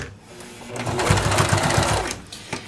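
A sewing machine runs in a steady rhythmic burst, stitching back and forth to finish bias binding on a small handmade wallet, close and alone with no talk.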